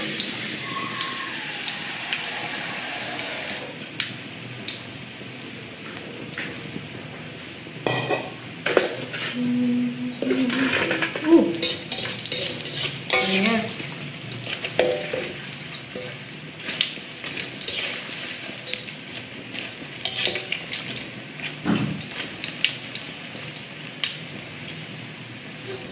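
Sizzling and crackling like spinach chips frying in a pan, steady hiss with bursts of spattering and clatter, fairly close.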